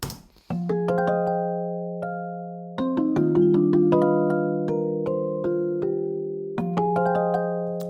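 A piano melody of sustained low chords and scattered higher notes, with flam quantize slightly staggering the note onsets. It is heard in two passes, before and after the effect, at a moderate level and with no voices.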